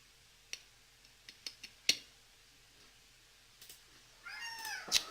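A cat meows near the end, a short rising-and-falling call that follows several sharp, scattered clicks in an otherwise quiet room.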